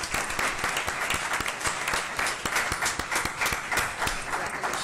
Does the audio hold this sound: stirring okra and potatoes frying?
no